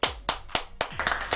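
A few people clap in a brisk, uneven rhythm, about six sharp hand claps close by over a little more than a second.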